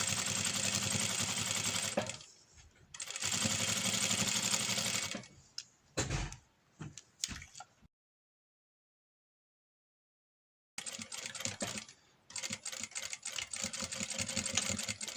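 A sewing machine stitches a seam on IKEA towels, fast steady whirring runs in several bursts separated by stops, short stutters and a long silent pause, then running again near the microphone.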